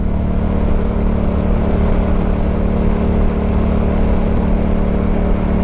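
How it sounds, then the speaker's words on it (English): Steady, loud wind roar buffets a helmet while riding a Honda Rebel 1100 fitted with a batwing touring screen, mixed with the constant drone of the engine and no pauses. "The wind is going over the helmet, but I'm also getting additional wind coming from the sides"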